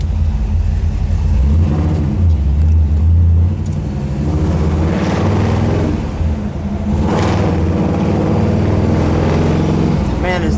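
A blue 1963 Chevrolet Impala hardtop with a rebuilt 409 V8 rumbles and revs loudly up close, its deep engine note swelling and easing over about ten seconds, with people talking beneath the engine noise.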